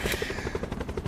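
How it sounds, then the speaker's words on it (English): Helicopter in Call of Duty Black Ops 4 Blackout mode, a rapid rhythmic rotor chop pulsing quickly through a short burst at moderate distance, with no talk. "Oh, helicopter actually."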